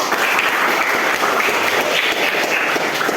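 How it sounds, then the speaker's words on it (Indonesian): A class of secondary school students claps together in a classroom, a loud, even wash of applause that holds steady without a break. "Tepuk tangan untuk kita"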